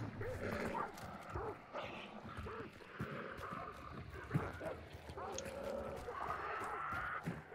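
Dogs in the Hunt: Showdown video game bark and whimper amid busy game ambience, with clopping and other in-game sounds layered throughout and a voice speaking at times.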